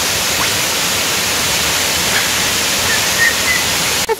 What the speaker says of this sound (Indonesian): akhirnya kami sudah sampai di sekitar air terjun Cinangrang